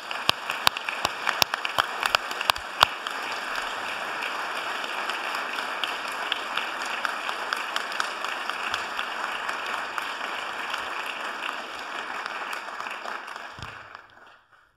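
An audience at a school prize-giving applauding Father James, sustained, dense clapping that starts with a few sharp individual claps, holds steady, then fades out near the end.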